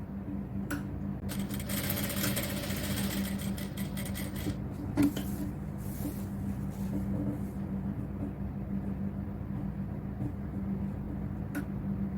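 A sewing machine stitches a cotton top in a V-shaped line, giving a steady, close mechanical whir with a constant low hum and a few faint ticks throughout.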